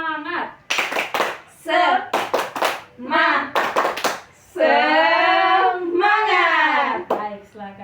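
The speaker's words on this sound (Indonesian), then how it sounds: "Kita akan tepuk semangat agar nanti pada saat pembelajaran kita lebih semangat." A fourth-grade class of children in an Indonesian primary school claps a rhythmic spirit clap in crisp, patterned bursts, then the group shouts a chant together loudly.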